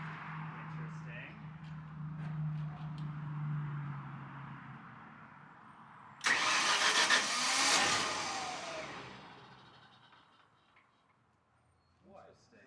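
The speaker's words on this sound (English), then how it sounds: "It starts up and then stops the cranking, but it doesn't continue to start." An Onan 35EK generator running on propane cranks with a low droning hum, then a loud broadband burst as it catches briefly before fading out. A voice talks over part of it.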